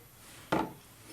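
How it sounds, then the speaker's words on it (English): Shaving soap scraped out of its container into a shaving bowl gives one short, close rasping scrape of about a quarter second, followed by quiet. "just scrape some out here"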